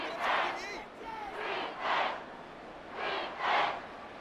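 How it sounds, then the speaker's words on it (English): Stadium crowd in a Madden 25 football simulation, Jaguars versus Panthers, swelling in broad rolling waves of roaring noise that rise and fall several times, moderately loud and steady with no clear speech. "this crowd trying to force a false start here"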